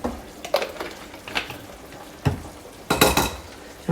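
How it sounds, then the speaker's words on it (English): Soup mixture sweetened with agave being gently stirred in a pot, a series of soft spoon scrapes and clinks against the pan, irregular and close. "we're just gonna gently stir it"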